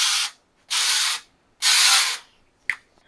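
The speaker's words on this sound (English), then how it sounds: "I'm just going to spray the pans down." Coconut oil cooking spray is misted onto loaf pans: three sustained close-up hissing bursts separated by short pauses, then one quick final puff, with no talk.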